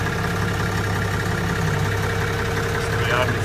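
A Yanmar 6BY-260 marine diesel running in the engine room of a Faeton Moraga 850 boat: a loud, steady, close droning hum with a tonal whine, while someone talks over it.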